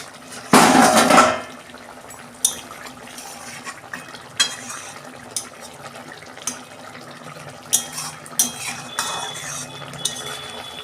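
A metal lid comes off a pot of simmering fish curry with a loud clatter at the start, then the bubbling cooking carries on with scattered small clinks and utensil taps nearby.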